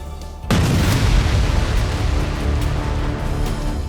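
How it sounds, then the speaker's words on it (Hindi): A heavy explosion from an attack on a bridge in Karaj, Iran, hits suddenly as a loud broadband boom, then a sustained roar of rumbling noise follows for several seconds without fading much. "करज के B1 ब्रिज पर हमला होते ही भयंकर विस्फोट हुआ"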